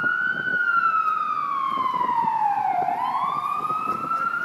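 An emergency vehicle siren wails through a street during a festival in Austin, a loud close tone that sweeps down as it passes and rises again, over background traffic rumble.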